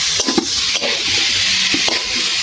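Eel fish pieces sauté in a pan with spiced curry paste, giving a loud, close, thick sizzle broken by soft scraping stirs.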